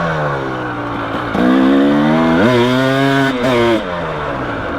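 A 2017 KTM 300 XC two-stroke dirt bike engine idles close by, then revs up sharply twice in rising, buzzing bursts before dropping back to idle, loud with no talking.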